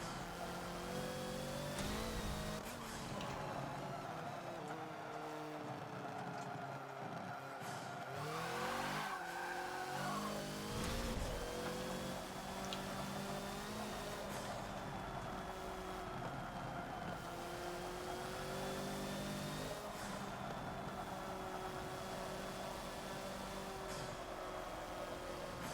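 In the Forza video game, the Hoonigan Ford Focus roars loudly as its engine revs up and down, with tires squealing and skidding through corners in a continuous, close-up run.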